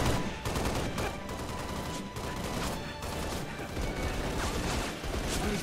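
Continuous rapid machine gun fire from a mounted gunner in the Halo Reach video game, loud and dense, with steady bursts hammering through the whole stretch and no speech.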